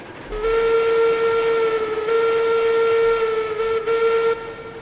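A steam locomotive hauling a very long train in the RailRoads Online video game gives one loud, sustained whistle blast lasting about four seconds, over a steady rumble of the running train.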